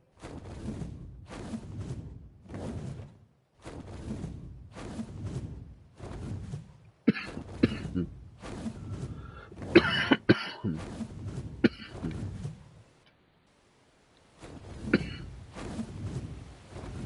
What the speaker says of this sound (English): Back at it again, elbow cough.